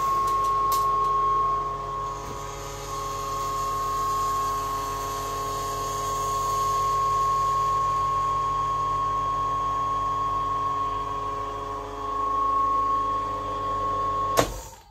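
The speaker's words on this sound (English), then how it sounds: "So we finished vacuuming." A Cryovac vacuum packaging chamber on a TurboVac system pumps down with a steady, loud mechanical drone and whine that holds for about fifteen seconds before a sharp click near the end.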